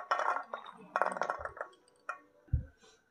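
Green peas tipped into a bowl alongside chopped capsicum for vegetable pakora, several close clinks and rattles against the bowl in irregular bursts with a soft thud near the end.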